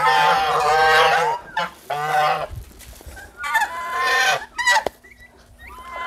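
Poultry on a small mixed farm with rice fields and fish ponds, loud honking, gobbling calls in several bursts close to the listener, separated by brief pauses and softer clucks.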